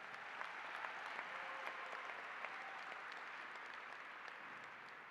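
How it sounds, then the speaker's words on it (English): An audience applauding the young people at a university fall commencement ceremony, a steady, even wash of clapping heard from a distance that continues throughout. "Y'all clap for the young people one more time."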